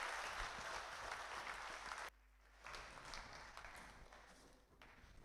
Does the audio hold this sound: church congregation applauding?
yes